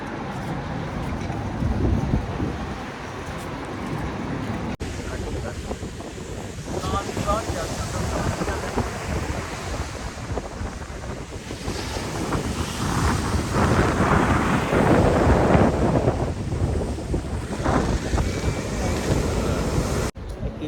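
Wind blowing outdoors on a hot day, a steady roaring rush buffeting the microphone for the whole stretch, swelling and easing slightly, with faint voices underneath.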